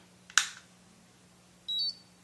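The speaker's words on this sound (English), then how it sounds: "yeah, and it beeps" A sharp click followed by a short, clear electronic beep as an Izunami KTX450 flat iron powers on, close and isolated in a quiet room.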